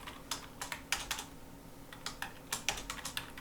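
Bursts of keystrokes on a computer keyboard while naming a sheet tab in Excel, quick clustered clicks separated by short pauses, close and fairly quiet with no talking.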